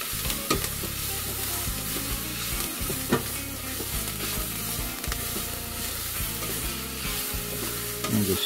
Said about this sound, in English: I'm going to add jalapeno, garlic, and ginger,